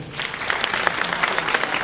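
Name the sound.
applause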